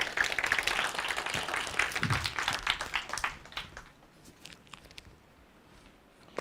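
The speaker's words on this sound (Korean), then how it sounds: "박수로 맞을게요." A crowd at a project presentation event claps and applauds loudly for a few seconds, then the clapping thins out and fades to scattered claps.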